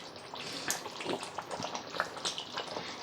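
Tomato gravy bubbling and spitting in a pan, a steady mix of soft pops and fizzing with no voices.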